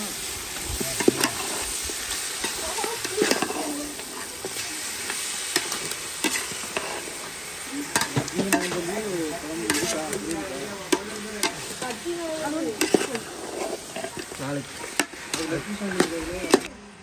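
A spoon stirs meat curry sizzling in a pan with turmeric and chili powder added, steady frying hiss under repeated scraping and knocking strokes, with a voice talking over parts of it.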